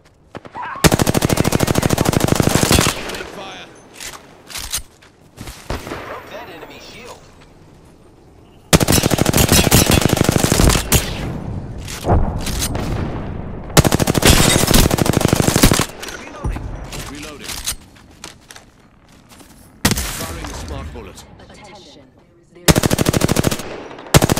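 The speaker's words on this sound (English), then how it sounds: "Getting shot at." Automatic weapon fire in the Apex Legends battle royale game, long sustained bursts of rapid shots alternating with shorter volleys and brief gaps, loud and close, with occasional game voice lines between.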